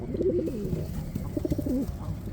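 Pigeons at a pigeon market in Radom cooing in soft, repeated throaty bursts, close and clear over a dull background murmur.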